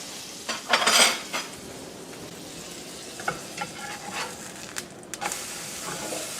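Cabbage pancake frying in butter in a pan, with soft sizzling beneath a few clattering scrapes and knocks of a spatula during a flip, close and fairly quiet, no speech.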